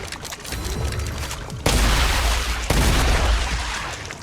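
Shredder rounds firing in the sci-fi game StarRupture, a steady loud stream of rapid shots punctuated by two heavy booming impacts, continuous and close.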